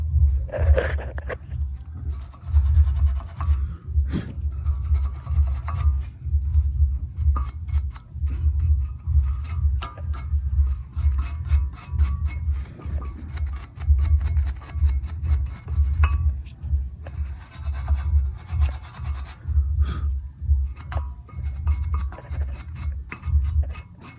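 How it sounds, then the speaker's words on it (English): Wire brush scrubbing the four contact points of a front brake caliper bracket on a 2013 Volkswagen Beetle 2.5, a steady run of close, rapid rasping strokes that continues unbroken throughout. "we're gonna clean with a wire brush here, in these 4 contact points"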